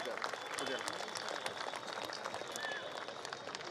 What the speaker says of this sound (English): Please give a huge round of applause for the sir.